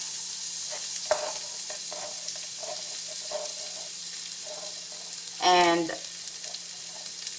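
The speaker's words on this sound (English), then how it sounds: "We just want to slightly saute the ingredients to release the flavor. And we're gonna start with garlic." Garlic sautéing gently in olive oil for chicken adobo with ginger, giving a faint, steady sizzle with a few soft clinks while a voice talks over it and a brief louder sound comes near the end.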